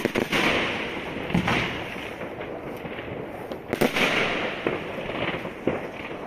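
New Year's Eve fireworks in Germany crackle and pop continuously in the distance, with repeated sharp bursts over a steady rumbling wash of noise.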